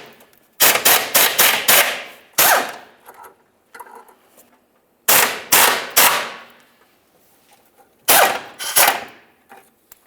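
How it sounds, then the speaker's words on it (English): Bursts of rapid ratcheting from a 13mm socket wrench backing out the ride level sensor mounting bolts on a 2003-2011 Mercury Grand Marquis, several loud clicking runs separated by pauses. "Continue on with a 13mm to remove each of your mounting bolts."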